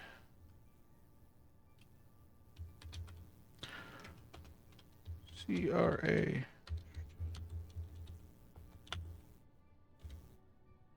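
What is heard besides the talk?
typing on a computer keyboard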